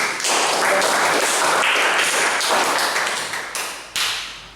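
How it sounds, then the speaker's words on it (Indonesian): Brief burst of classroom applause from students during a motorcycle engine lesson, dense steady clapping that tails off and then gives a last short flurry. "Tepuk tangan."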